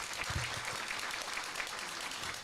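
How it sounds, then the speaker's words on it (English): Audience members at a caregiver expo applaud a panel, a continuous, fairly distant wash of many hands clapping with no voices on top. "Please give our panelists a round of applause."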